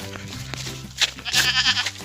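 Goats and young kids bleat close by in a series of short, wavering cries with a louder, longer bleat near the end.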